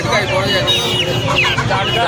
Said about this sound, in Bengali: এগুলো দেখুন বাংলাদেশি মুরগি আছে